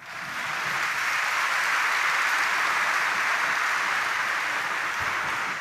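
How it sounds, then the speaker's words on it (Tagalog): A church congregation at a Mass applauds during the homily, a full, sustained round of clapping that swells at the start and holds at a steady, loud level for several seconds. "Kaya pwede bang pumalakpak ng mas malakas?"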